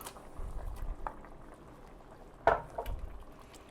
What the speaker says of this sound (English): You put them in boiling water, they'll be done in 30 seconds